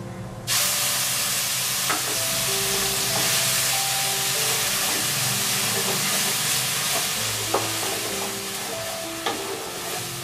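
Spice paste with cumin seeds sizzles and fries steadily in a hot pan for a potato and brinjal masala curry, a loud continuous hiss with occasional stirring clinks.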